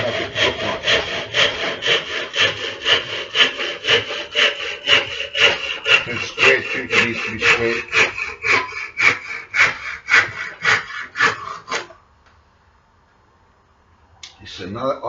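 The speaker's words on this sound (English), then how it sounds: "We've also got to sand all these pieces down to get the good wood" Rhythmic back-and-forth rasping on wooden chess board pieces, about two dozen quick even strokes close up before stopping, followed by a brief spoken line and quiet.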